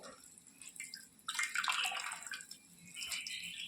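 Cooked amaranth greens are squeezed by hand, so water drips and splashes back into a vessel in soft, uneven bursts. The sound is quiet and close, with no talking.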